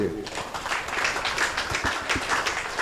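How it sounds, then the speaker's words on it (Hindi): Audience in a community hall gives loud applause for two organisers, a dense wash of clapping with a voice under it. "तो हम पहले जोरदार तालियां रोनल और आशीष को दे।"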